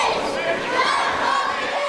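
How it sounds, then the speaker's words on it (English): Loud wrestling fans chant in unison at a steel cage match, a big crowd's rhythmic shouted voices rising and falling close and dense, with no separate commentary on top. "The fans are chanting, jump off the cage"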